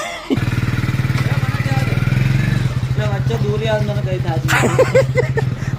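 A motorcycle engine idles close by with a fast, steady thumping putter, then runs a little rougher while people talk nearby, their voices rising over it toward the end.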